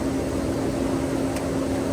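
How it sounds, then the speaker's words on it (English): Fans running on a grain dryer to cool freshly harvested hot corn, a loud, steady mechanical drone with a constant hum and no talk. "We'll keep the fans on"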